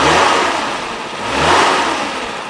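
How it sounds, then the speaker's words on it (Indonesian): A 1995 Suzuki Futura van engine revs up loudly to about 3000 RPM, drops back, then revs again in a second surge, a steady mid-pitched roar close to the listener. "Sekarang coba kita geber aja suaranya biar kita tahu"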